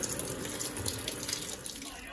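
Water rushing continuously into an Electrolux Turbo Acqua Jet 15.2 kg direct-drive washing machine, a steady close gushing and splashing with no pauses.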